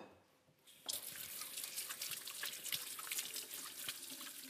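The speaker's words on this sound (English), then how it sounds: "Just wash my hands." Tap water runs into a kitchen sink as hands are washed beneath it, a steady close splashing rush that starts abruptly after a quiet moment and continues with small spattering irregularities.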